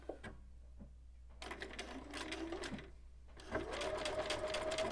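A sewing machine top stitches a fall leaves table runner in short bursts, its close, rapid mechanical whir starting and stopping several times before running steadily to the end.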